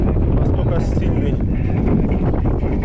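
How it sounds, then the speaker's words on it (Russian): Strong coastal wind in Crimea buffets the microphone during a bike ride, a constant heavy low roar with no breaks across the whole stretch. "Жесть, вот это ветер, блин."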